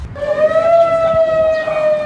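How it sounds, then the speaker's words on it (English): Emergency siren sounding in Cedar Key, Florida, warning residents to evacuate ahead of Hurricane Michael in 2018: a steady, loud tone with faintly rising pitch and bright harmonics, heard close and alone with low rumble beneath. "In Cedar Key, the emergency siren warns residents to leave by 8 p.m. tonight"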